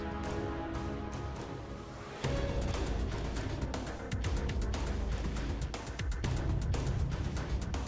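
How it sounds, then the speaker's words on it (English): Layered guitar parts enter an electronic music track, dense and loud with busy rhythmic strikes over a sustained full-range backdrop that builds as more layers come in. "Now I started adding guitars."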